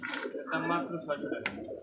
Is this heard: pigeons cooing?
yes